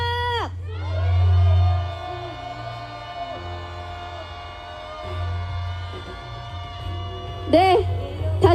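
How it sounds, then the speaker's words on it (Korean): Protesters at an anti-US peace march in Korea raise a collective shout, a broad swelling roar of many voices under amplified speech, with whoops and cheers bursting out near the end. "우리 미국을 향한 규탄의 함성 함께 질러보겠습니다. 함성 시작!"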